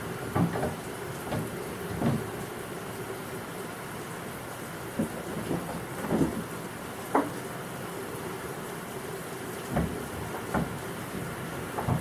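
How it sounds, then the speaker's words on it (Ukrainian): Steady rain falls outside in a continuous soft wash, with scattered louder taps and knocks rising above it now and then, heard from indoors. "Сьогодні на вулиці цілий день йде дощ"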